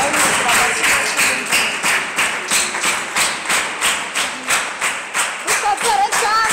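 A church congregation claps together for Pastor Solange in a steady rhythmic beat of loud unison claps, roughly three per second, with voices mixed faintly underneath.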